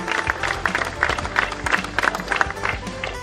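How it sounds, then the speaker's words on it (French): Crowd at a pétanque tournament clapping for the organisers, a short burst of distinct, fairly close hand claps with uneven rhythm. "Je voudrais qu'on les applaudisse"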